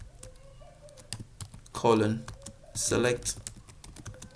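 Typing on a computer keyboard while setting up Python in VS Code on Chrome OS or Linux: a close, steady run of quick key clicks, with speech breaking in over it in two bursts.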